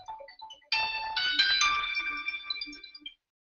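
A phone ringtone chimes during a live call-in broadcast, a bright electronic melody of several tones lasting a few seconds, fairly faint with little background.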